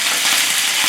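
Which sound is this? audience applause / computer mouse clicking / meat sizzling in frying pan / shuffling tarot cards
meat sizzling in frying pan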